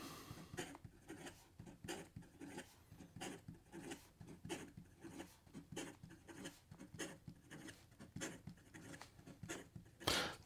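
An Esterbrook Estie Scarlet Oversized fountain pen writes fast on paper, giving quick, close scratchy strokes in an irregular rhythm with brief pauses, and a louder scrape near the end.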